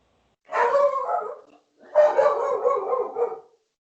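Dogs bark and yelp in the 2015 horror film Krampus, two loud drawn-out bursts of strained, howling barks separated by a short pause, close and with no talk over them.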